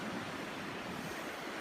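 Seawater swirls around a small sand dam built on a winter shoreline beside a hammock camp, a steady, close rushing wash with a windy edge and no break.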